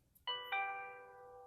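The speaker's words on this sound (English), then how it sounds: "You can choose from Ding Dong" A Nest Doorbell playing its Ding Dong chime theme: two clear bell tones, a higher strike followed quickly by a lower one, ringing out and slowly fading in a quiet room.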